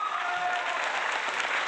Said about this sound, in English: All the clapping, yay!